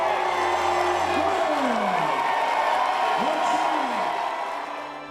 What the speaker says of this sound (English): To cheering fans and clicking cameras.